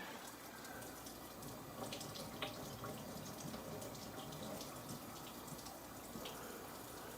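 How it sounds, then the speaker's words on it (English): Cold tap water runs steadily into a sink while tomatoes are rinsed under it, a continuous close splashing hiss with small irregular spatters, moderately quiet and free of talk. "Just give them a nice little cursory rub under the cold water there."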